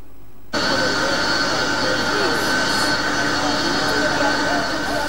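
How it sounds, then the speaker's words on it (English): A passenger plane landing at Jomo Kenyatta International Airport produces a loud, steady jet roar that cuts in abruptly after a brief silence and holds unbroken throughout. "The plane carrying Mr. Wang and his delegation of 50 top Chinese government officials touched down at the Jomo Kenyatta International Airport"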